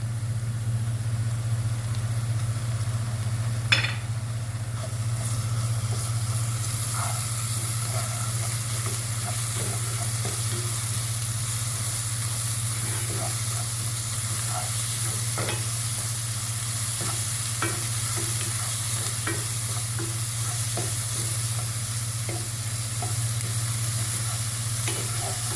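Green chilli chicken frying in a pan with ginger garlic paste just added, a steady broad sizzle running throughout with scattered stirring scrapes and clicks over a low constant hum, close and continuous.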